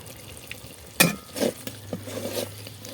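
Spice paste frying in oil in a pot on a clay stove, a soft steady sizzle broken by a few sharp stirring scrapes and clinks, heard close up with no talking.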